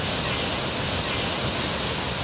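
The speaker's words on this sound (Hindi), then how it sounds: "कोटा बैराज नाम के बांध में इतना पानी भरा कि गेट खोलने पड़े और शोर के साथ साथ बांध का पानी निकल आया।" Floodwater from the Kota Barrage dam gates on the swollen Chambal river roars in a steady, loud, broadband rush with no pauses, like a close waterfall.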